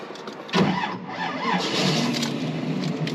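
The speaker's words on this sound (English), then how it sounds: "that 350 crate engine fires up nice and easy every single time." A 350 V8 crate engine in a 1933 Ford Vicky street rod cranks and fires, then settles into a steady, loud idle close by, with no talking.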